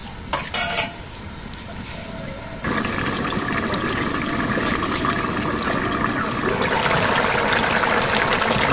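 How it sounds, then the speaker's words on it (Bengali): Water poured into a cooking pot of fish curry in a village kitchen, a steady splashing stream that starts clearly partway through and keeps running over a low, constant background, with a brief clatter of utensils at the start. "জল দিয়ে দেই"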